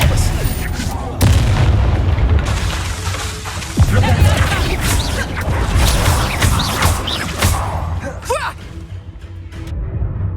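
Spell blasts from the Confringo fire spell in the video game Hogwarts Legacy, loud booming explosions and crackling bursts that layer densely over game noise for about ten seconds, with a player's voice speaking over the action.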